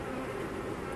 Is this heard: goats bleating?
no